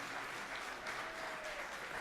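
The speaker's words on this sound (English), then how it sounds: "give them an amazing round of applause" An audience applauds dancers at a variety show, a dense, even patter of many hands clapping at a steady level for a couple of seconds, with no talk over it.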